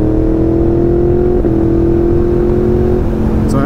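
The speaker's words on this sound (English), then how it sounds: "So that's quick shifting up" Borrowed motorcycle engine holding a steady, loud drone while quick shifting up through the gears, with brief dips in pitch at each clutchless upshift, close and alone.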